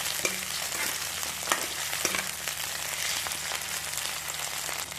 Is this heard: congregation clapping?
no